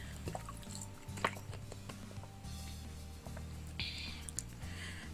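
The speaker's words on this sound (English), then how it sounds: "poured hot water into the teapot." Liquid trickles and splashes as hot water pours into a teapot in the video game Nekopara Vol. 1, mixed with soft clinks and background game sounds.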